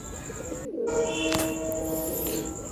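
A Madras or Giribaj pigeon, handled and released during a pigeon sale, gives a soft tonal coo, close and moderately loud over a steady background hum, with no talk.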